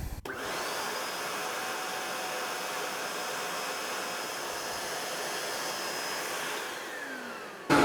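A Camvac dust extractor runs on a single motor, a loud, steady whooshing roar that holds constant from a sudden start, with a brief knock at the beginning and a bump at the end.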